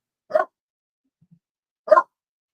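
A dog gives two sharp single barks at a door, well separated and fairly close, with silence around them.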